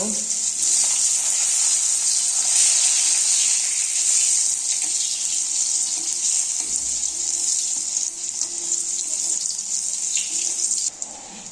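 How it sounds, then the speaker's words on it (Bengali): Eggplant pieces frying in oil left over from frying fish, giving a loud, continuous hiss and sizzle close by that holds steady throughout, with no talking. "মাছ ভাজা তেলের মধ্যে বেগুনগুলো দিয়ে দিচ্ছি হালকা ভেজে নেওয়ার জন্য"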